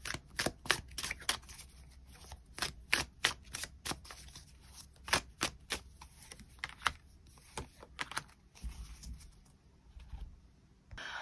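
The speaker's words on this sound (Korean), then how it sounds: "추가 카드로 이번 1월을 더 행복하게 보내기 위한 조언의 카드 무엇이 있을지 추가 카드 뽑아보도록 하겠습니다" Tarot cards are drawn from a deck in a quiet room, giving a fairly close series of irregular crisp flicks and snaps, some in quick bursts, alone without talk.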